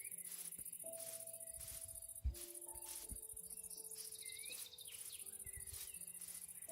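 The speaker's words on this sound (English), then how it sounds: "I don't know what that clicking is. It's supposed to be like a cricket or something." Night ambience in a Minecraft modpack: a steady, fast cricket-like insect clicking runs throughout, with scattered tonal game sounds and soft thumps, no talking.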